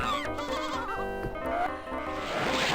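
A sheep from the Freddy Pharkas, Frontier Pharmacist adventure game lets out a wavering, drawn-out bleat after being shot, loud and close over a continuous backdrop of game music.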